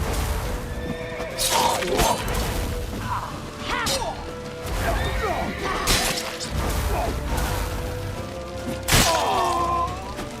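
Horses in The Witcher 3 whinny and neigh loudly several times amid crashing impacts and hoof clatter during a frantic chase, with brief shouted voices.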